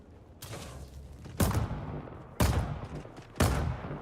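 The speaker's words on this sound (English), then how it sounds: "who's doing that shooting near me?" Gunshots in Dune: Awakening ring out as four distinct, evenly spaced loud cracks about a second apart, each with a short decaying tail, nearby and with no talking.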